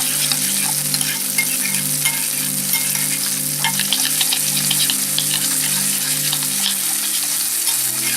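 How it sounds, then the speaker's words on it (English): Sauce seasoned with salt, pepper and lime juice sizzles loudly in a pan as it is stirred, a dense continuous crackle over a low steady hum, with no talking. "And we'll just stir this all together."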